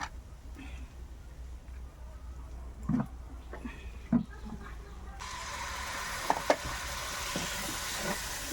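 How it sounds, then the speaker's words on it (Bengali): Spice paste of cashew, poppy seed and fried onion sizzles softly in a pan with chicken chaap cooking on low heat, steady frying hiss with a few scraping stirs, the sizzle brightening in the second half. "বাটা মশলাটা দিয়ে ভালো করে কষিয়ে নেব"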